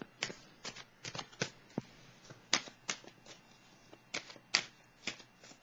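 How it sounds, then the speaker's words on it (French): A tarot card deck being handled as a card is drawn, giving a quiet series of sharp papery flicks and snaps in an irregular rhythm, close by with no talk. "Je vais piger une carte pour l'intuition."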